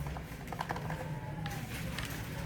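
Commands are typed on a computer keyboard, giving a quick run of light, close key clicks in an uneven rhythm over a faint steady room hum.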